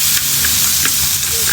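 Chopped onions sizzle steadily in hot oil in a pan for egg gravy, a loud continuous frying hiss close by with faint stirring.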